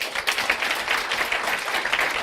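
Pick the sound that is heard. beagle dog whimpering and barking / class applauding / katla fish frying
class applauding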